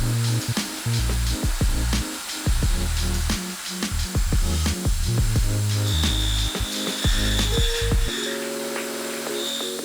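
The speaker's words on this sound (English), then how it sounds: "I'm going to try and buff these sanding marks out" A power buffer working a clear-coated Toyota 4Runner TRD Pro grille to remove sanding marks, a close whirring drone broken by uneven bursts and pauses, then a steadier hum at the end.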